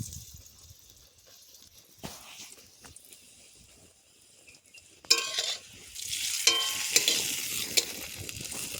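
An egg bhurji paratha fries in a pan. The scene starts quiet with a few soft stirring noises, then a loud, bright sizzle bursts in about halfway through and holds steady to the end.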